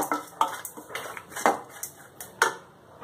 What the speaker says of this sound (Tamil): தேங்காய் ஆட் பண்ணி ஒரு 2 மினிட்ஸ்ல நம்ம சாதத்தை ஆட் பண்ணி கிளறி எடுத்துடலாம்.